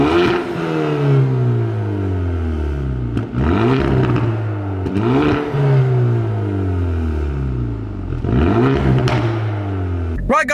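A Hyundai i30N with a stage 2 flexi pipe pulls away hard, its engine revving up through repeated rising sweeps with sharp gear-change breaks between them, loud and close throughout.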